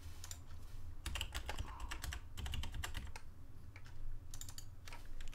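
Keystrokes clatter on a computer keyboard in quick bursts separated by short pauses, quiet and close, during work on a Forge mod for Minecraft 1.12, with no voices.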